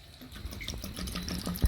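Red wine vinegar poured into jars in a home kitchen while pickling purslane, a quiet irregular trickle and splash of liquid with small glugs, close and faint, ending in a slightly louder splash.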